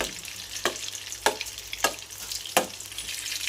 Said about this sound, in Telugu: కట్ చేసుకొని బటర్ వేసుకొని ఇలా కలుపుకోవాలి